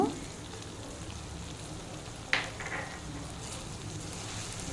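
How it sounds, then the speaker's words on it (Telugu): Masala powder frying in a pan for brinjal pulao, a soft steady sizzle with a brief sharper stir or clatter partway through, no talking. "మసాలా పొడి వేసి ఒక రెండు నిమిషాలు దాన్ని వేయించాలి"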